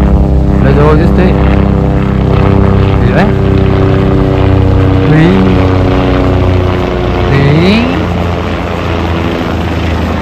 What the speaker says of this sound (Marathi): हेलिकॉप्टर आलं बघ